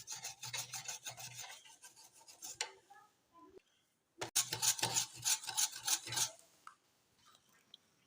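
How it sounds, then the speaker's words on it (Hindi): Jaggery being crushed for sesame laddoos, a loud scraping, grinding rasp in two bursts with a short quiet gap between them, then fading into near silence. "यहाँ पे मैं गुड़ को क्रश करूँगी अच्छे से।"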